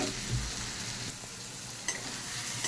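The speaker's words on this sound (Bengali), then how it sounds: "দিয়ে দিচ্ছি 1/2 চামচ করে লঙ্কা, জিরে, হলুদ। মশলাটা বেশ ভালো করে কষা হোক।" Tomato with chili, cumin and turmeric sautés in a pan, giving a steady soft sizzle with a few faint clicks of stirring, quiet and continuous throughout.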